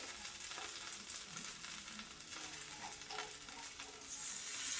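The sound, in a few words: stirring steak au poivre sauce in a pan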